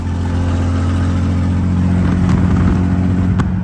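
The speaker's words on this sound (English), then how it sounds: "this thing exhaust leaks so bad, it sounds like a tractor" Nissan G35 drift car with a turbo kit and a badly leaking exhaust, a loud, rough, low tractor-like engine drone heard up close while driving, with slight swells as it revs.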